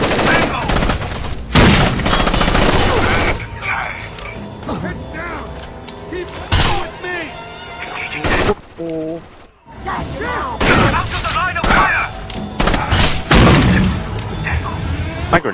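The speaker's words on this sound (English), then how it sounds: "Immediately get shot by two people coming downstairs." Gunfire in the video game Rainbow Six Vegas 2, loud bursts of automatic shots and single cracks in irregular volleys, with a short lull in the middle.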